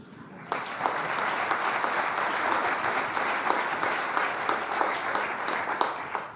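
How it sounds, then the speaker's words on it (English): A conference audience at the Royal Australian Navy Sea Power Conference bursts into warm applause for three secretaries, dense clapping starting abruptly and continuing steadily throughout. "would you join me in a warm word of applause, please, for these three secretaries?"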